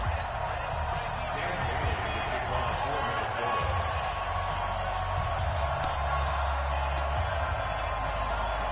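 A sold-out football crowd roars steadily at Gillette Stadium in Foxborough in a Patriots versus Vikings video game, a constant distant wash of cheering with a commentator talking over it.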